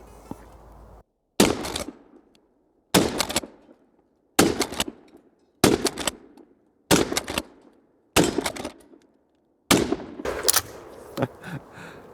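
Eight loud, sharp pump-action shotgun blasts fire at a steady pace, each about 1.4 seconds apart, with mechanical pump clacks between shots and the last ones rattling more.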